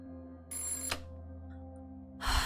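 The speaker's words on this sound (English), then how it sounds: "the telephone in my motel room began to ring" A motel-room telephone rings as a sound effect, with two bursts of electronic trilling separated by a pause over a steady low hum.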